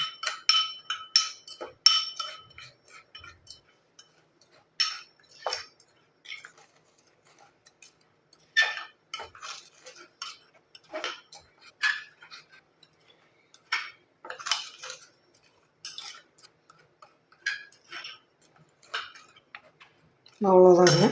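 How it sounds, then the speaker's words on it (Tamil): Spoon clinks and taps against a bowl while gram flour, coffee powder and sugar are stirred into a face pack, a rapid irregular series of light clicks running under a person talking. "கடலை மாவு 3ஐயும் வந்து நல்லா மிக்ஸ் பண்ணிக்கலாம்"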